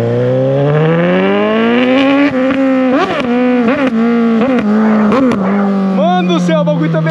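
A loud, close Suzuki GSX 750 motorcycle engine revs and climbs in pitch on a street, holding a steady buzzing drone with repeated throttle blips, voices faintly underneath.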